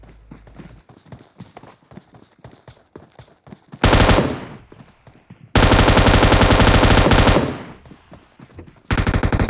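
Automatic gunfire in the PUBG Mobile video game, with quick rhythmic footstep-like ticks at first, then three loud, close bursts of rapid fire, the longest lasting several seconds.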